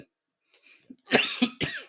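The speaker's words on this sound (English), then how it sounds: "I've been coughing all night." A run of harsh, throaty coughs, close by and fairly loud, coming in three quick bursts after a few faint breathy sounds.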